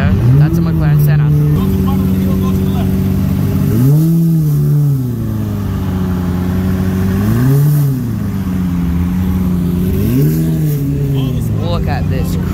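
A purple McLaren Senna hypercar rolls in at a Los Angeles car show, its engine droning loudly and close, rising in three distinct revs spaced a few seconds apart over a steady idle.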